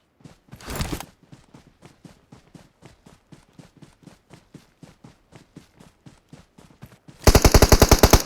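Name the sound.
gun firing in video game PUBG Mobile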